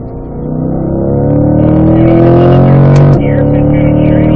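A car at a racing driving school accelerates hard down the straightaway, its engine note climbing steadily and loud with a brief dip near the end as it shifts up, no one talking over it.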